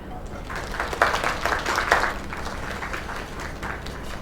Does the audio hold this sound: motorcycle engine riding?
no